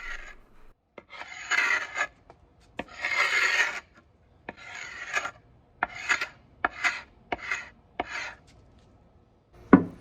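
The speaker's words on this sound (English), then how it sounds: "The paint on the top was pretty dry and already flaking off, so I just decided to scrape the top." A scraper rasps across the dry, flaking painted top of a wooden side table in a series of short, close scraping strokes separated by brief pauses.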